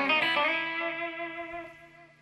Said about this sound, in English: It's an open string lick in the chicken picking realm.